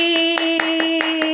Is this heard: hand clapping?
yes